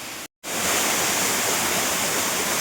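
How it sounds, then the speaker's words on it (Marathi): A waterfall on a village river, running low, gives off a loud, steady rush of falling water close by, broken only by a brief gap of silence near the start. "भारी आहे ना वॉटरफॉल"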